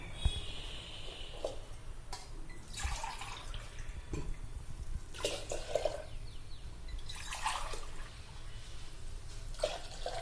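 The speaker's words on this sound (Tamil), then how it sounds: "மீதி 3 டம்ளர் தண்ணி விடணும்னு சொல்லலங்க," Water poured into a pot of milk on a stove while making sweet pongal, heard as several separate splashing, trickling pours with pauses between them, close and moderately loud.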